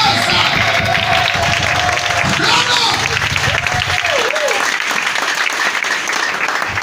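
A large crowd at a spiritual anniversary celebration applauds and cheers loudly and steadily, dense clapping with shouts rising over it while a voice speaks through the noise.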